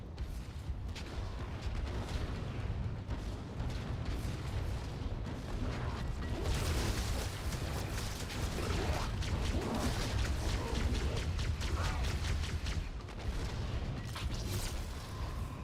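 Grenade blast in the Halo 2 Anniversary game, a dense burst of booming crash and debris inside continuous loud gunfire and mechanical battle noise, with no clear single peak standing apart.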